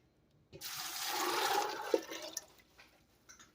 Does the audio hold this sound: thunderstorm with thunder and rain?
no